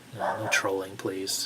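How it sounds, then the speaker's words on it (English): A dog lets out a few short barks and whimpery yips under a man's ongoing speech. "Sorry about my dog."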